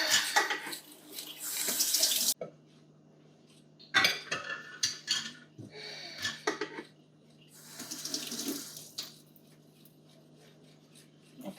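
Dishes are washed up at a home kitchen sink under a running tap. The water gushes in bursts, and cutlery and crockery clink and clatter in between. The sound is near and fairly quiet, with no talking.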